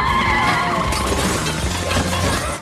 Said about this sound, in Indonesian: Mereka pun saling menembak dan saling menabrak.